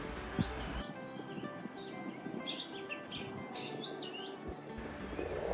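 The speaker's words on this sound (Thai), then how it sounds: "ใช่แล้วค่ะเสียงนกร้องค่ะ ที่นี่มีนกอยู่หลายชนิดมากเลยนะคะ" Birds chirp and call in short, scattered bursts over a busy outdoor riverside background in Ayutthaya, Thailand, faint and somewhat distant, with no talking.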